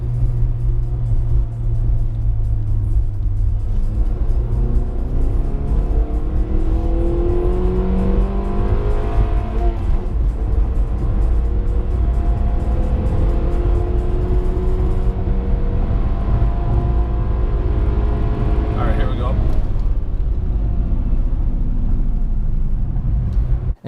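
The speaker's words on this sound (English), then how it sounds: "we're gonna go ahead and speed up once more" A 9th generation Honda Accord accelerates on the road with a steady, loud engine drone and road rumble heard from inside the cabin, its pitch rising through the gears, with a shift around the twenty-second mark.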